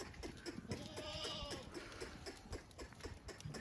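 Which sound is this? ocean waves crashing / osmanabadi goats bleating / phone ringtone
osmanabadi goats bleating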